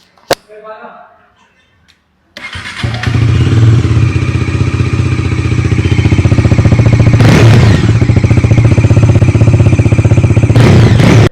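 A Bajaj Dominar 400 motorcycle with a dual barrel exhaust starts up after a brief quiet moment, then settles into a loud, steady idle with a deep, even thrum. The engine runs alone with no talk.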